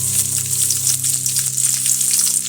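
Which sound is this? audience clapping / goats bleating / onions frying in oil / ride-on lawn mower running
onions frying in oil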